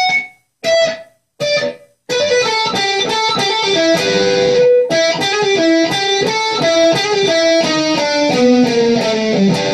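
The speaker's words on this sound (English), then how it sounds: "there's a guitar solo. Little guitar solo," Electric guitar solo in E blues, played high up the neck in 12th position, from a song lesson: a few separate picked notes, then a continuous run of fast, bright lead lines, loud and alone.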